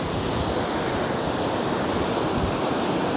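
Ocean waves break at a public surfing beach in Aurora, Philippines, a loud, continuous roar of surf with wind buffeting the microphone.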